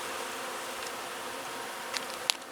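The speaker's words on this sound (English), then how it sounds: "I don't know if the camera's picking up the buzzing noise, but they're all over this bush." Bees swarming over a bush in a park, a continuous close buzzing hum with a few louder passes as individual insects fly near, no voices.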